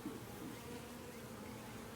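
A swarm of honeybees buzzes in a dense, continuous drone, steady and fairly close throughout with no talking.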